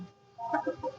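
A rooster among hens in a village yard gives a short burst of clucks, a few brief tonal calls rising after a quiet start, close and fairly soft.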